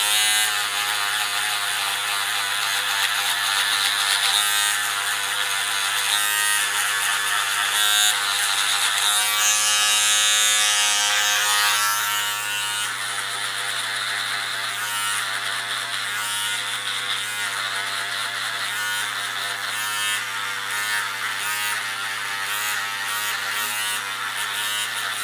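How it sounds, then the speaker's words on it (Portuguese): An electric shaver buzzes close and steady while finishing a skin mid fade haircut in a barbershop, a continuous rattling hum that shifts slightly as it moves across the head, with no voices. "a gente pode vir com a nossa shaver e fazer o acabamento aqui"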